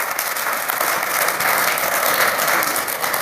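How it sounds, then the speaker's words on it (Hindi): A crowd at a poetry gathering claps for Aditya, loud, dense applause sustained evenly throughout, close by, with no voices over it. "आज हमको सबको तालियां बजानी चाहिए आदित्य के लिए"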